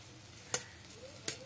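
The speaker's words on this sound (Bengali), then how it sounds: "এই দেখুন কচুটা ভাজা করেছি, নেড়ে নেড়ে করতে হবে" Fried taro being turned in a pan, faint sizzling under two sharp scrapes of a spatula against the metal, quiet and close.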